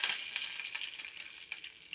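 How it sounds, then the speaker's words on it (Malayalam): Curry leaves hit hot oil with mustard seeds already popped, giving a steady close hiss of frying with small crackles and pops throughout. "കടുക് പൊട്ടി നമുക്ക് കരിയാപ്പില ഇട്ട് കൊടുക്കാം."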